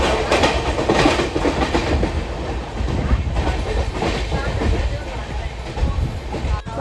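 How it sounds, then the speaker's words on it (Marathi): A moving passenger train on a journey toward Thane and Panvel in India, its wheels clattering in a steady rhythmic clickety-clack with broad rumbling noise, loud and close throughout, with faint voices mixed in. "भाई ट्रेन निघाली आहे"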